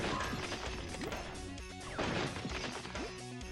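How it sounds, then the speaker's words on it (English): A box smashes with sharp crash hits in the Jazz Jackrabbit 2 video game, several quick impacts over busy game music and effects. "smashing a box isn't always a bad thing"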